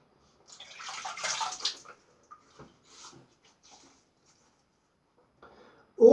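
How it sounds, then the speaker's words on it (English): Water splashes softly in a sink as hands dampen a face before shaving, a brief wet swishing burst followed by a few faint drips and dabs, then a louder splash at the end. "I'll just dampen my face again."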